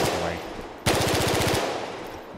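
Rapid automatic gunfire from an Unreal Engine 5 game demo, a loud burst of about a dozen evenly spaced shots following a brief hum, then a fading ringing tail.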